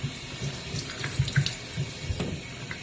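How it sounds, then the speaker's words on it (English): Tap water runs steadily into a sink while toothpaste is rinsed off a white top, with soft splashing and intermittent sloshing from the fabric being moved under the stream. "just kind of give it a good rinse to get rid of all of the toothpaste"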